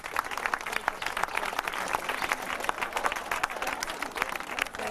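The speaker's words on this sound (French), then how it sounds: "Alors je demande d'applaudir," Steady crowd applause fills the room, dense and continuous clapping at moderate level without pause.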